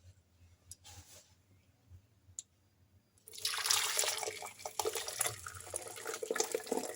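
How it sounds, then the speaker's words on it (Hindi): Whey water pours and splashes as homemade paneer is strained through a cloth, a sudden steady rush of liquid after a few quiet drips and clinks, close and continuous. "अब हम इसको कपड़े की मदद से छान लेंगे"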